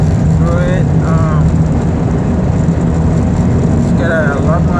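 A car cruises along a road on a long drive through Canada, giving a constant low interior rumble of engine and road noise while someone talks over it.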